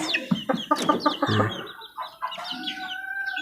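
Chicks and chickens cheep and cluck nearby in a busy overlapping chorus, with sharp high peeps scattered throughout.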